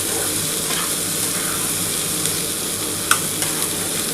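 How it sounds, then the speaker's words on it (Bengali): Masala spices frying and being stirred in a pan for a potato and lote fish curry, a dense steady close sizzle with a sharp utensil scrape or clink near the end, no voices. "খুব ভালোভাবে দেখো কষানো হয়ে গেছে মশলাটা দিয়ে"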